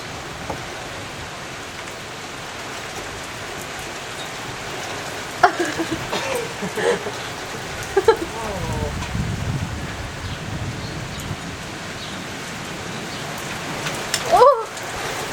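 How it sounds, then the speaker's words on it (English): Steady rain falls outdoors as an even, close hiss throughout, with a few brief voices and small knocks cutting in over it partway through and near the end. "should we go out and see what the rain's like?"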